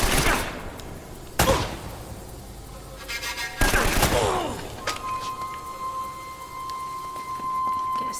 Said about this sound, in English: AK-47, very popular in video games nowadays.